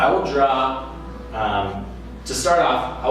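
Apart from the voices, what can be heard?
None of the usual background noises is heard.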